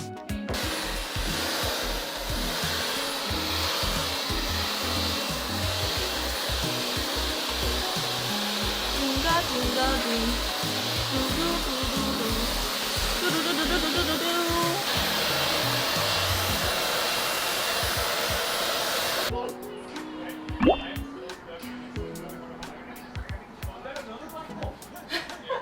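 A Dyson hair dryer blows hot air over hair during a home hair makeover, a loud, steady whooshing roar lasting about nineteen seconds that then cuts off, with people talking and handling things underneath.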